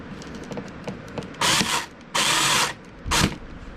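Power drill boring a hole while building a rolling fish cooler for beach or pier use, with three loud whirring bursts of under a second each, close up, separated by short pauses and quiet handling noise.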